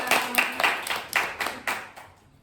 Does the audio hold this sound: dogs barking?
no